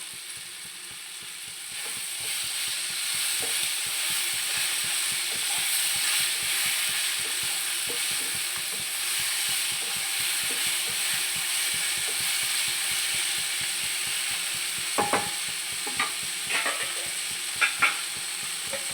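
Tomatoes with onions and salt soften in a pan for prawn biryani, a continuous sizzle broken by repeated scraping stirs and a few sharper utensil clicks near the end.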